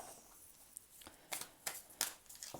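Quiet riffle shuffles of a tarot deck, starting with soft handling and building into several crisp bursts of cards snapping together in close succession, up close with no talking.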